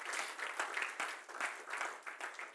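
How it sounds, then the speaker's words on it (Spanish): Church congregation applauding during a Sunday service, clapping in uneven waves that swell and dip over a couple of seconds, somewhat distant with no speech. "Dale un aplauso al Señor."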